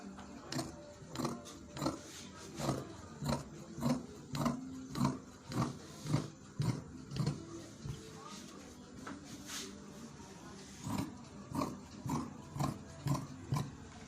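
Danshiki fabric is cut with a steady run of soft, rhythmic snipping and rustling close by, dozens of evenly spaced strokes with a short break midway.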